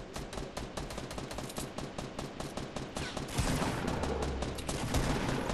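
Rapid automatic gunfire crackles without pause in a squads shooter game, a dense fast rhythm of shots that carries on throughout and grows heavier and more layered toward the end, with no talking over it.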